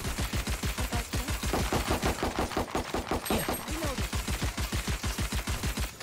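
Rapid automatic gunfire in Valorant, a long steady stream of evenly spaced loud shots that run through the whole stretch with hardly a pause.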